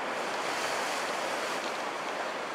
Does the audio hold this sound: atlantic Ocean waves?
yes